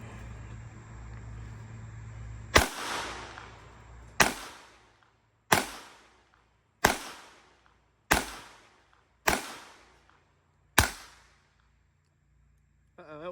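Seven sharp .22 caliber rifle shots fired outdoors at a steady pace about a second and a half apart, each a loud crack with a short decaying tail, over a low background hum.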